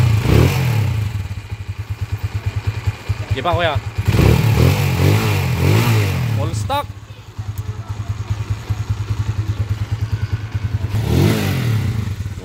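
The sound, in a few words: 1988 Honda TMX155 motorcycle engine started and running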